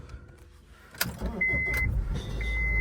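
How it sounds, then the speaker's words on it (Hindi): After the exhaust cutout was removed and the pipe welded, a car engine cranks and catches, then settles into a steady, close, fairly quiet idle with a faint high whine. "बड़े अरसे बाद कसम से कहा साइलेंट हुई है गाड़ी यार, स्टार्ट करके मज़ा आ गया गाड़ी को"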